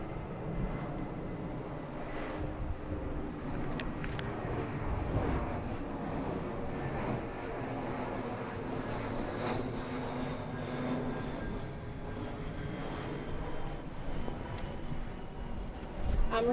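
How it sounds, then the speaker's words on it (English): An airplane passes overhead, a steady, broad engine drone that holds at a constant, moderate level for the full length with no clear rise or fade, and faint talk underneath. "We'll wait for this plane to go beyond."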